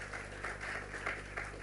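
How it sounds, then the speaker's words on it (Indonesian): Church congregation claps together in a faint, fairly even burst of applause with a loose pulsing rhythm, heard at a distance over a low steady hum. "Yang setuju katakan, berikan tepuk tangan dia buat Tuhan Yesus."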